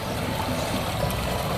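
Plentiful water babbles and rushes steadily along a village canal, a loud, continuous, close wash of sound with no voices over it.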